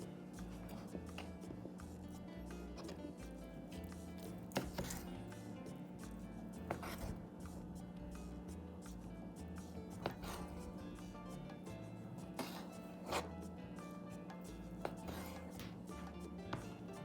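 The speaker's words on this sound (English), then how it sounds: "I like it tiny pieces, so I cut into squares, and I'm going to continue cutting this to look like this." A knife cutting conch meat into small squares, giving sparse, faint, irregular taps and chops over a low steady background hum, with no talking.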